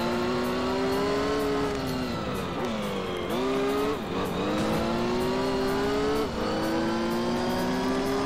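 Racing car engines from the Gran Turismo 3 video game whine steadily, rising and falling with gear shifts as the revs climb and drop, loud and continuous with faint tire squeals.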